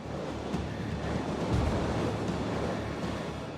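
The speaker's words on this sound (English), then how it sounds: "In other areas of Sacramento, water spills over the levees." Sacramento floodwater spills over the levees in a loud, continuous roaring rush, close and unbroken for the whole stretch.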